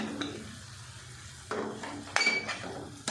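Chopped capsicum tipped into spiced potatoes in a cooking pan for aloo shimla mirch: a few sharp clatters of spoon on metal, with a quiet stretch between them, and a soft stirring hiss.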